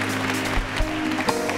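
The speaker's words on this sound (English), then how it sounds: "Let's give God a hand clap of praise for all of those that have come" A church congregation claps in praise, a continuous wash of many hands with a few sharper individual claps standing out, while voices murmur faintly underneath.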